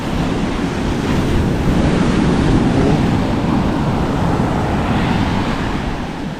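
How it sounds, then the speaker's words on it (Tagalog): Large ocean waves roar and surge continuously up close, with heavy wind buffeting the microphone. "Mas lumaki pa nga ngayon ang alon."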